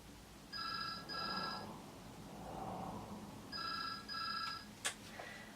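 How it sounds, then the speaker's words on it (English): A phone rings in two paired bursts of bright electronic trills separated by a pause, followed by a sharp click, heard indoors at moderate volume. "Oh, I better check my phone then."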